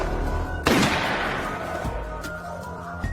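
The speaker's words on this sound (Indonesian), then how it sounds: "dia mendengar suara tembakan yang menusuk dari belakang" A single sharp, loud gunshot in a zombie film cracks out and decays into a long rumbling echo, with faint background noise and softer thuds afterward.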